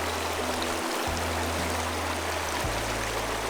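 A river stream runs over rocks, giving a steady, continuous rush of flowing water with a low rumble underneath, close and fairly loud throughout, with no voices.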